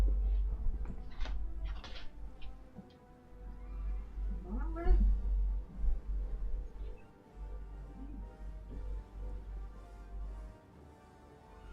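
A pet cat meows close by in a quiet room, one drawn-out, rising call near the middle of a stretch with a low background hum and a few faint knocks.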